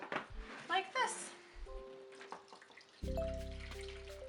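Water dripping and trickling onto stacked trays of sprouting barley fodder for an Angora rabbit, a soft intermittent patter that turns into a steadier pour near the end, with a voice talking over the start.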